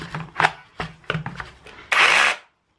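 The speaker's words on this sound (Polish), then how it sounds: "Miałem wrażenie, że w pewnym momencie wiertarka trochę zwalniała." A Kaltmann Titanium cordless hammer drill drills in a short, loud steady burst of under half a second, following a string of clicks and clatter from handling the tool.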